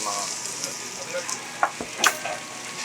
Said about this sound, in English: Oh, you hear it sizzling on there?